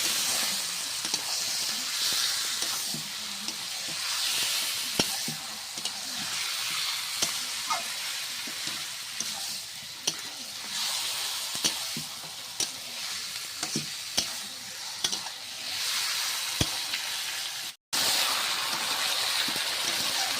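Marinated chicken pieces, poured into a pan after onion and garlic, fry with a loud, steady sizzle and hiss, broken by occasional clicks and scrapes of stirring.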